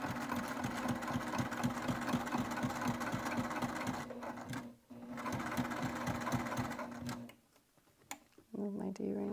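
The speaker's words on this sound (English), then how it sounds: "I'm not fighting with my machine now because the Teflon is helping it glide" A domestic sewing machine stitches vinyl using a Teflon foot, running in a steady fast mechanical rhythm with brief pauses and a stop near the end, while a person talks over it.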